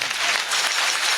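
A crowd at a Marathi kirtan bursts into brief, dense applause, many hands clapping together in a loud continuous wash.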